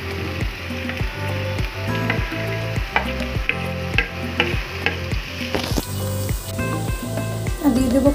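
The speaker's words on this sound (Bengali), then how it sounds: "তো আমি আগে সবজিগুলোকে এরকম করে ফ্রাই করে নেবো একটু অল্প তেলে।" Mixed vegetables with green peas fry in a little oil in a wok for egg fried rice: a close, busy sizzle under rapid, regular spatula clacks and scrapes that grow louder and denser toward the end.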